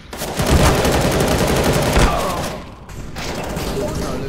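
A shotgun fires in a video game with a loud, close blast and a rumbling tail, followed by rattling weapon handling and a weaker second report.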